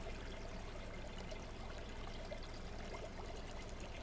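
A small creek pours and trickles in a constant, even wash of water, close and unbroken throughout with no other sounds.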